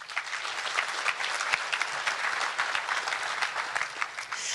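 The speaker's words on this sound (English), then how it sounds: "can I give a round of applause to ISC for doing that?" A roomful of people at an international snowmobile congress leadership talk applauding steadily, a dense wash of clapping heard from within the audience, with a faint murmur and no clear speech.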